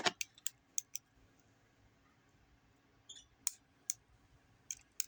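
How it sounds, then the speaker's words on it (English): Scissors snip a string left over from a finished X-base cuff bracelet: a handful of quiet, crisp clicks, a cluster at the start and a few more near the end, against faint room hiss. "Oh, my scissors are not scissoring."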